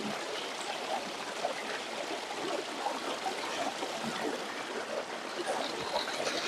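Clear, shallow stream water swirls and trickles steadily as someone wades and treads through it in a village garden setting, a continuous close wash of bubbling flow with no voices.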